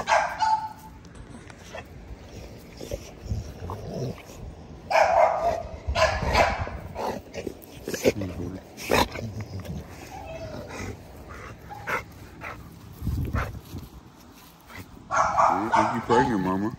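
An XL Pitbull barks in short bursts at intervals, several loud yips and woofs scattered through a spell of ongoing conversation, with some whimpering between.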